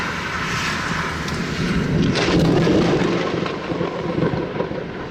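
Thunder from a very close lightning bolt in a fast-moving, rain-wrapped severe storm: a crackling burst swells into a loud, rolling rumble that gradually fades.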